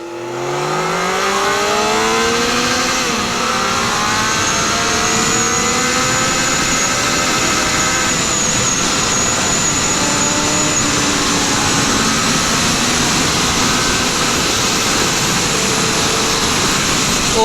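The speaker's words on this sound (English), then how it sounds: "the way this bike pulls even after 120" Triumph Trident 660 motorcycle fitted with a 17-tooth rear sprocket, its engine roaring loud and close as it accelerates hard at high speed, pitch climbing through the gears over steady wind rush.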